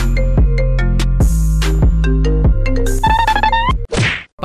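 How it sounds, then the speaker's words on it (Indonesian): A telephone rings with a loud, repeated melodic ringtone: short bright tones in a steady pattern that cuts off just before the end, with no voices. "Telepon berdering."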